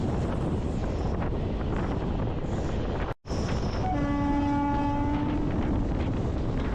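An Indian train rumbles steadily along the tracks with loud broadband noise, a brief dropout, then sustained tonal whines like a horn or brake squeal.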